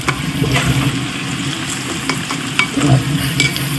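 Fish pieces for Kerala fish pickle deep-fry in hot oil, producing a loud, dense, bubbling sizzle close by, with occasional stirring clinks and scrapes throughout.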